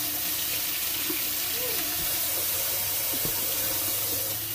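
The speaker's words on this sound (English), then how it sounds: "Run a little bit more water in it just to rinse them one more time." Tap water runs steadily into a sink over soaked beans being rinsed, a continuous loud hiss and splash with a few faint knocks underneath.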